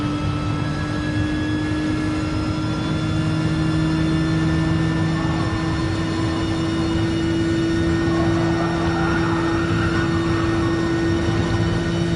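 A race car engine in Gran Turismo Sport holds a steady, sustained drone at high revs throughout, with a constant tonal whine and no talk over it.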